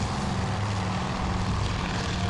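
Torpedo bombers flying in during a Task Force Admiral naval battle, a steady loud propeller-engine drone that holds constant throughout with no voices.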